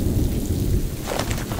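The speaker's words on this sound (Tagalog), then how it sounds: "Tsaka umuulan Basang-basa ka na dyan." Steady heavy rain with a deep, rolling rumble of thunder, loud and continuous throughout with no voices.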